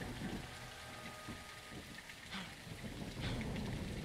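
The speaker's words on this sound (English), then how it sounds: "It's raining fucking hard." Heavy rain pours in the Call of Duty Modern Warfare II video game, a dense continuous downpour with low rumbling underneath, loud and steady with no speech.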